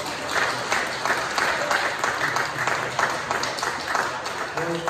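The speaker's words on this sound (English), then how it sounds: "So I think a little round of applause is beautiful." A church congregation at a Sunday service gives a round of applause, steady clapping at moderate volume with individual claps audible, while voices speak over it toward the end.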